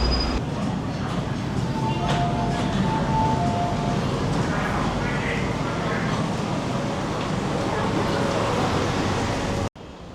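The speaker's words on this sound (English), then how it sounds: "Now we're going to be taking the metro." Riding aboard a Hong Kong metro train: a steady, loud rolling rumble from wheels and carriage with faint whining tones layered above, continuous throughout and ending with a brief sharp interruption near the end.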